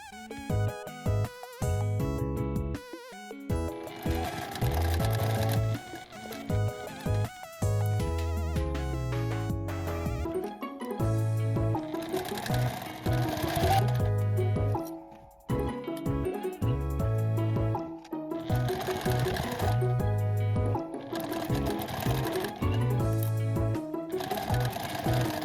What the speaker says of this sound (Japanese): 折ったところと返し口は縫わないで、縫い代1センチで縫います。